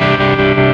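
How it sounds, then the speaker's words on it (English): Kemper Photosol tremolo effect on an electric guitar, a loud sustained chord with a steady pulsing throb and distorted edge, played alone without talk. "That's the photosol tremolo."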